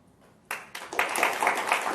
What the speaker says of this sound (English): Thank you for remembering to applaud.